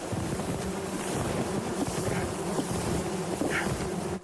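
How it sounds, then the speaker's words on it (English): A few thousand bees swarm inside a wooden capture box, a dense, steady buzz that holds close and loud throughout with a low wind-like rumble beneath, and no talking. "box is buzzing with a few thousand bees"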